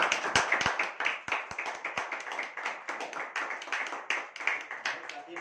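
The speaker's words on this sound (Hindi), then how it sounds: "जो नए साथी पहली बार इस मीटिंग में आए हैं, जोरदार तालियों के साथ उनका स्वागत करेंगे" An audience at a meeting claps to welcome new members, starting with a few sharp, separate claps that build into quick, dense, uneven clapping from a roomful of people.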